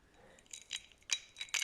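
Ice cubes clink in a drinking glass, a few faint, bright, irregular chinks close by in an otherwise quiet room.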